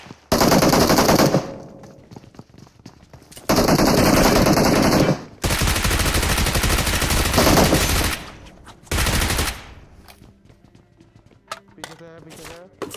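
An M4 rifle fires in PUBG in several long, loud full-auto bursts separated by pauses, followed by quieter scattered shots and game sounds.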